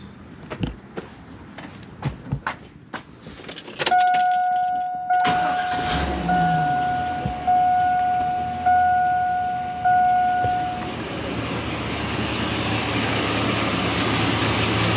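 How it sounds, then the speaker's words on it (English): A truck engine cranks and starts during a charging-system check, with clicks and handling noises first, then a warning chime beeping repeatedly as the engine settles into a steady idle nearby. "So we're going to start this truck and make sure that it's charging."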